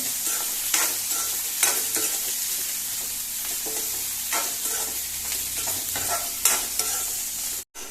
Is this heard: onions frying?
yes